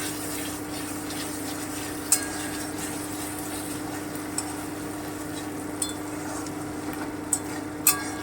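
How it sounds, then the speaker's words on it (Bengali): Onion paste frying in a pan for a Bengali pea-based charchari, stirred steadily, with a continuous soft sizzle and a few sharp clinks of the spoon against the pan. "এবারে আমি পেঁয়াজ বাটাটা দিয়ে দিলাম এখানে একটা পেঁয়াজ বাটা আছে একটু নেড়ে নিচ্ছি"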